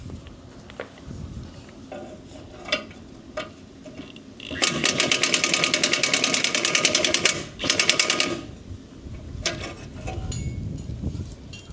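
A small power tool with adjustable torque settings spins up in loud, steady bursts of whirring, with one sustained run broken by a short pause and quieter motor noise before and after.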